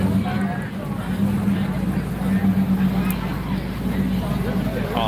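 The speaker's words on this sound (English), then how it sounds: "Oh, listen to that engine purr." An art car engine idles and rumbles at a street parade in Houston, a steady low hum under crowd babble and nearby talking.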